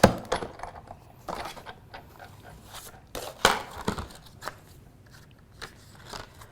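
Paper run through a die-cutting machine with clear cutting pads, giving irregular close crunches, cracks and snaps of varying loudness over a quiet background.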